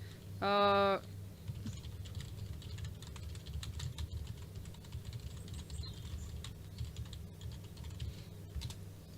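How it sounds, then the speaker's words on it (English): Steady typing on a computer keyboard, with quick uneven key clicks running throughout over low room hum, briefly interrupted at the start by a short tonal beep. "I'm gonna type just in case you can't hear me"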